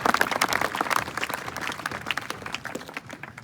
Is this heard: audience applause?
yes